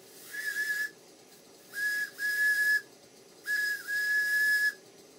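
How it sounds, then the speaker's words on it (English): A 5-inch gauge model GWR 14XX steam locomotive whistle sounds in three short, thin blasts with pauses between, fairly weak and breathy on low boiler pressure, over a low mechanical rumble. "the whistle blows. It doesn't blow very strongly, but at least it blows"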